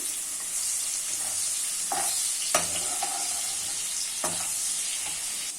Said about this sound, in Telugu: ఇప్పుడు మనం ఉల్లిపాయలు వేగించుకోవాలి